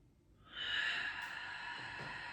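Slow, steady breath during a prenatal yoga stretch, a soft airy exhale sustained for about two seconds, close and quiet with no talking.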